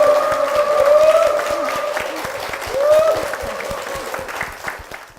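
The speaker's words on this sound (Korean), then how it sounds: "담임 목사님과 또 원남교회를 위해서 큰 박수 부탁드리겠습니다." Sustained congregational applause in a church, steady rhythmic clapping from a crowd under a held tone, swelling slightly midway before easing off.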